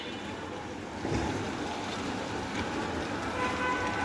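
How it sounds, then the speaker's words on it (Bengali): Constant rain patters and rushes over floodwater at a station, growing slightly louder after the first second, with no talking. "যে এখনো বৃষ্টি পড়তেই আছে"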